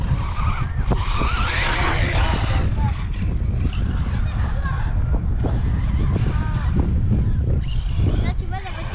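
A car skids with squealing tires at an outdoor water festival, loud and close, the screech rising and falling over several seconds amid engine roar, with people talking nearby.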